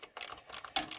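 Ratchet wrench removing a bolt on a Torqueflite 727/904 transmission, giving a few quick, close clicking ratchet strokes in a short rhythmic burst.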